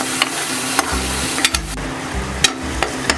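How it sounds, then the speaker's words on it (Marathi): Chopped onion roasting in a pan for pav bhaji, stirred with a spatula: steady sizzling frying hiss under repeated sharp scraping strokes of the utensil against the pan, close and moderately loud, with no talk. "तर हे बघा बघू शकता असा कांदा आपल्याला व्यवस्थित भाजून घ्यायचा आहे।"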